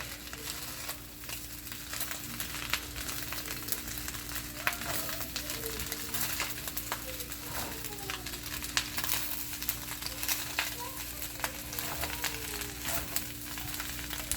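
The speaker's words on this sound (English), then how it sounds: "Mixing all of that together" Chicken fried rice sizzles steadily in a hot pan while being stirred and tossed, giving a continuous crackling fry with soft scraping and rustling movements throughout.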